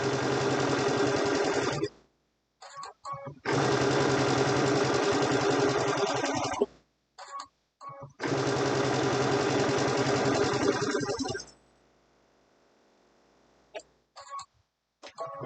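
A sewing machine or serger stitches a pillowcase seam in three long steady bursts of fast, even needle hum, each several seconds long and separated by brief pauses with small clicks and handling noises.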